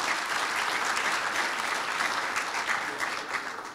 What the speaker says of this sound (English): Let's give them a round of applause for hosting us.